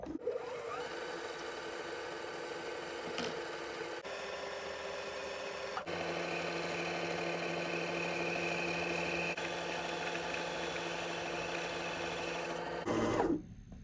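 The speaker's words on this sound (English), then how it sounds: "You can snip that and continue to wind until the bobbin stops" A Janome Hello Kitty sewing machine winding a bobbin, a steady close motor whir running evenly for several seconds with small shifts in pitch, then winding down abruptly at the end.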